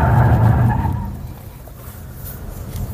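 A Jeep Renegade in an extreme safety test with a professional driver swerves sharply. Its engine and tyre noise is loud at first, then fades as the vehicle moves through the manoeuvre.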